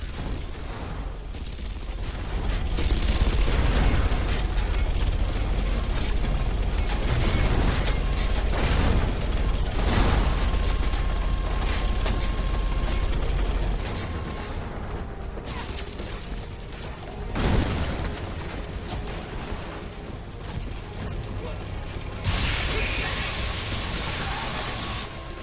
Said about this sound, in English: you'll note that the tank he was in actually got destroyed